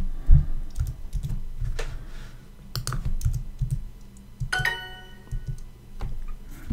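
Typing on a computer keyboard while entering a Turkish phrase, with irregular bursts of close key clicks and a quick rapid run of strokes near the end, no talking.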